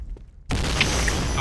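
A grenade explodes in a video game: a sudden loud boom after a short quiet moment, then a dense blast of noise that holds to the end.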